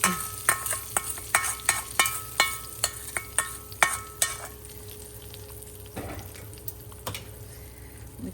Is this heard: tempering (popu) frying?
yes